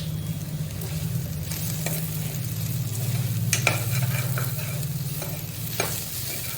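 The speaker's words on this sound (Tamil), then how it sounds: "அதுவும் சேர்ந்து நல்லா வதங்கணும்" Steady sizzling as green chillies fry in a pan with occasional stirring scrapes and clinks, continuous and close, no talking.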